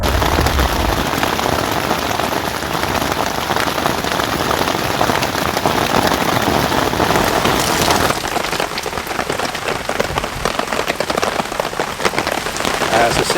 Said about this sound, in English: the rain started coming down, so I actually crawled into the tent